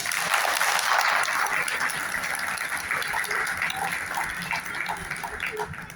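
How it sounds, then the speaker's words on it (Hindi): Loud, continuous applause from the audience at a Hindi poetry gathering, many hands clapping in a dense wash with faint voices mixed in underneath. "उनके लिए जोरदार तालियां हो जाए"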